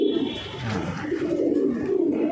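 Pigeons coo softly and continuously in a home loft where many birds are kept, their low burbling calls overlapping with a faint high tone and light background noise.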